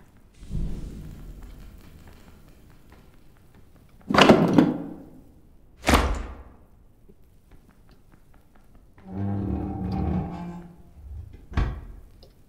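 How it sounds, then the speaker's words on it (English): Several creaking, thudding door noises in the dark video game Pilgrim, with distinct bangs and a longer rattling groan spaced apart across a mostly quiet background. "Doors making noises."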